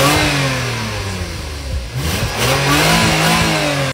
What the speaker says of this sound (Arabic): اسمع الست سلندر، اسمع